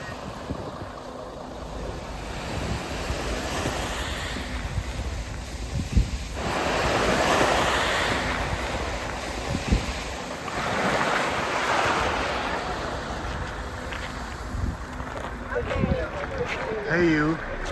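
Waves washing onto the sandy beach of Kalafatis on Mykonos, a steady surf roar swelling and easing in long surges, mixed with wind buffeting the microphone and faint distant sounds.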